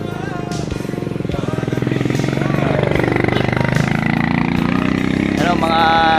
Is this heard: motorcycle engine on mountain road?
yes